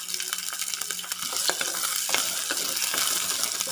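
Ten garlic cloves sizzle and crackle in hot oil in a pan for a Kerala-style anchovy fish curry, a steady close frying hiss with scattered pops and a few light stirring knocks.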